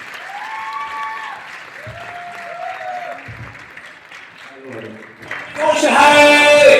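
A crowd at a gathering with a health coach bursts into loud, sustained clapping near the end, following a stretch of amplified voice and tones.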